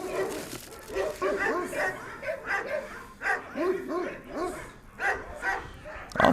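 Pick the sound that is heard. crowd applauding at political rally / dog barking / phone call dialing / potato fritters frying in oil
dog barking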